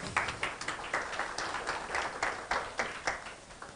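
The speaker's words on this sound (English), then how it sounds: "A bigger round of applause." A small crowd at a tourism expo investment forum opening claps in a series of quick uneven bursts, fairly faint and distant, with a brief voice in the background.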